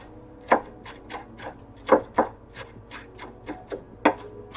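A knife chops through a very large onion on a board with quick, uneven strokes, about a dozen crisp close cuts with a few heavier hits, and no talking.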